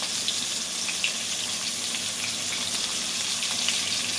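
Turmeric frying in hot oil in a pan over medium to high flame while cooking chicken liver and stomach, a steady bright sizzle with occasional small pops, close and continuous.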